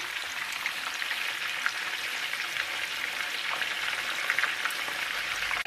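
Breaded shrimp fry in hot oil with a dense, steady crackling sizzle like light rain, constant and close throughout.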